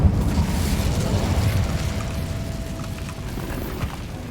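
The Incendio fire spell from Hogwarts Legacy erupts in a loud, sustained burst of roaring flame and crackling that slowly fades, with no talking.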